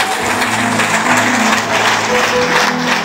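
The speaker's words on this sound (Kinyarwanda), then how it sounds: "amashyi menshi cyane" A church congregation at a youth gathering claps together in sustained, dense applause, with a low tonal hum of music or amplified sound running underneath for about three seconds.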